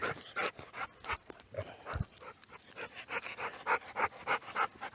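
A dog pants hard and fast, close by, with rapid rhythmic breaths throughout and a faint whimper or two mixed in.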